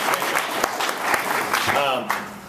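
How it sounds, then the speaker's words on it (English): A panel audience at a technology session claps briefly for the speakers, moderate applause mixed with a voice talking over it near the end. "If you would, applause, please."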